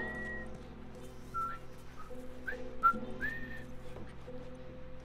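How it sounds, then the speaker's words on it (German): A person whistles a few short, rising tonal phrases over a steady background hum and layered game music, the whistle fairly faint and intermittent. "Ich pfeife."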